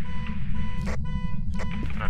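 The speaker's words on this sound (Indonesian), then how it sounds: "Suara mobil, cok. Enggak. Klakson ini." A sustained car horn in the game Phasmophobia blares steadily beneath the scene while people talk over it in short bursts.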